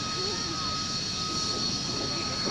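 A British jet aircraft roars steadily at an airshow in Wales, a loud, unbroken engine drone with a high whine running through it.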